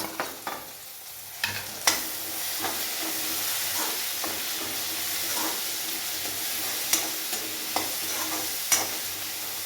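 Ginger-garlic paste frying with softened potatoes in a pan for a capsicum sabzi, giving a steady sizzle and hiss with a few sharp clicks and scrapes of stirring.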